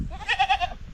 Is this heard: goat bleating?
yes